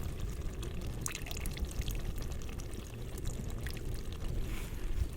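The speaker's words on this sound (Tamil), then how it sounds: "இந்த புளியோட சாரை இந்த விடணும்" Tamarind juice is poured into a cooking dish for a Malaysian recipe, a close, steady liquid pour with small drips and splashes throughout, no speech over it.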